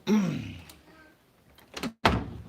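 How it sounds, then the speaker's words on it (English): An indoor door is pushed shut at close range: a scraping swing, then a firm wooden thunk, followed after a short pause by a second heavy latch knock, with no voices. "We'll go ahead and shut this door down here."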